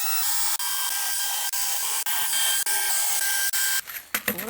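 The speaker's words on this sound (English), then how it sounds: "let's countersink some holes" A power drill countersinking screw holes in wood for a small pet bed, a steady high whirring run broken by several short pauses, then ending with scraping and handling noises.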